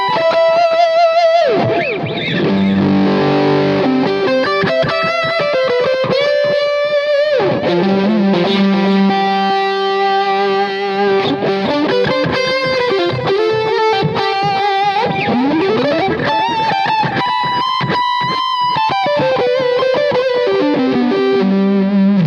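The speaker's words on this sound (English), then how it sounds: "I'm gonna add in the tube driver." An electric guitar runs through a tube driver overdrive pedal, playing warm, distorted sustained notes and fast melodic runs with bends, loud and unbroken throughout.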